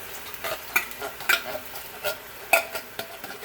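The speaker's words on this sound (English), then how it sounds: "Let's just stir all this goodness together." Fire-roasted diced tomatoes and tomato sauce being stirred in a pot for Spanish rice with sausage: a handful of wet, scraping stirs close by, with a faint sizzle underneath and no voices.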